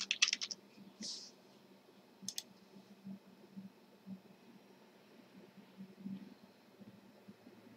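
Keys on a computer keyboard are tapped faintly in short, sparse bursts of light clicks, with quiet pauses between them and a soft background hiss.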